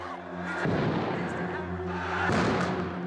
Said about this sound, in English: We counted at least 6 separate explosions.